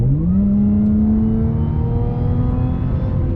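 A 2015 Audi S4 engine revving hard and accelerating in sport mode, pitch rising then holding steady as it pulls away, loud and close.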